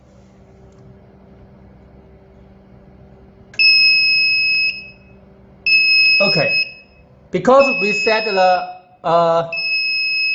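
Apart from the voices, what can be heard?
quartz infrared heater over temperature alarm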